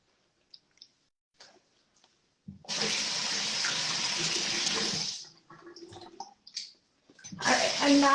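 Tap water runs steadily for a few seconds while face cleanser is rinsed off, then stops, leaving small splashes and drips before the water starts again briefly.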